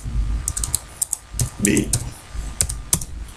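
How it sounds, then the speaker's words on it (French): Fingers tap out a short entry on a computer keyboard during a spreadsheet task, a close run of crisp, uneven key clicks ending in a firmer press of the enter key, while someone speaks quietly underneath. "Je valide par la touche entrée du clavier."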